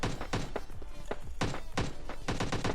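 Heavy thudding footsteps of an enemy player in PUBG Lite, a run of dull impacts in an irregular walking rhythm, fairly close and prominent, with no speech over them.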